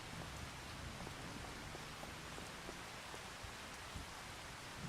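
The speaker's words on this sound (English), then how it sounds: "I'm not going to open the door because it's raining." Rain falls outside in the video game Farming Simulator 25, a steady, faint, even hiss with scattered soft drop patters and no voices.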